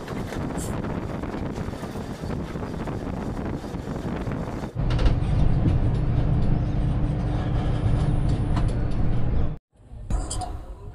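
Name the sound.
Doon Express train running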